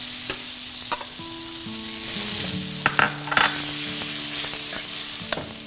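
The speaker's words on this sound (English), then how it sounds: "This frying really does release the aroma of the garlic" Steady sizzling of garlic frying in butter in a wok, with occasional clinks and scrapes of a utensil stirring in the pan.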